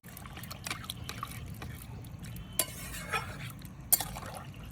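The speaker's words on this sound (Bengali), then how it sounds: "এই সর্ষে আর পোস্ত বাটা সেল ধোয়া জলটা দিয়ে দিচ্ছি, সঙ্গে আরও জল দিয়ে দিচ্ছি।" Water is poured into a pan of katla fish curry with eggplant, potato and a mustard and poppy seed paste. A soft trickle and stirring run throughout, with a few sharp clinks of utensils against the pan. No one speaks.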